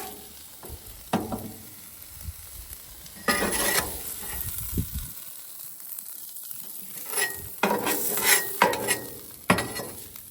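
Ground turkey sizzling in a pan on a grill while a utensil stirs and scrapes it, with bursts of clattering strokes over a continuous frying hiss and a brief quieter lull in the middle.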